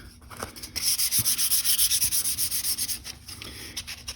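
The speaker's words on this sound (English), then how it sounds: "Sand through all the grits" A carved maple wood spoon is sanded by hand with sandpaper, giving loud, close rhythmic rasping strokes in a fast regular back-and-forth pattern with no talk.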